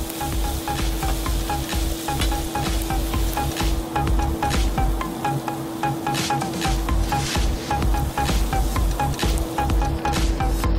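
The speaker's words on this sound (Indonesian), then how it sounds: "Oke, kita tambahkan santan." Coconut milk poured into a pan of frying pecak gurame (Betawi grouper dish) and stirred, giving a steady loud sizzle with regular scraping strokes of the spatula throughout, with no voices.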